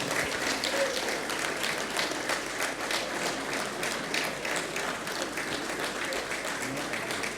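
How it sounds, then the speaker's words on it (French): A crowd claps steadily in even, rippling waves, applauding again at a ceremony presenting a parchment to the Portuguese president. "On peut applaudir encore une fois"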